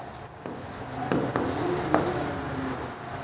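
Chalk or marker writing on a classroom board during a chemistry lesson, a few quick scratchy strokes and taps, close and clear with no voice over it.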